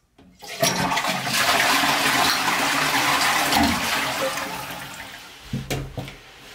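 A toilet flushing after a full cistern refit with a new fill valve and stop tap, a loud rushing gush of water that slowly fades, then a few gurgles and clunks at the end.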